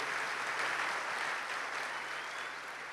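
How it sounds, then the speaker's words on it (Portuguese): A church congregation claps together in a thick, sustained wash of applause for the pastor's wife, easing slightly toward the end. "Vamos aplaudir essa mulher de Deus"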